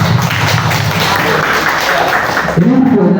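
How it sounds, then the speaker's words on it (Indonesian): A short burst of clapping from a small group in a school setting, fairly close and overlapping with talk, ending abruptly. "Tepuk tangan dulu Pak Tim."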